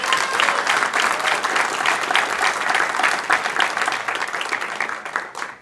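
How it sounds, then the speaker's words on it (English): A celebration audience breaks into sustained, loud applause for a youth group, dense clapping holding steady throughout before tapering slightly at the end. "Let's give this passionate group, that's all of you guys, a round of applause"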